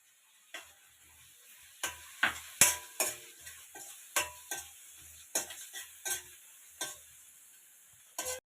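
Mint leaves frying in a pan, a quiet sizzle broken by a run of sharp, regular spoon scrapes and taps against the metal, close by with no talking.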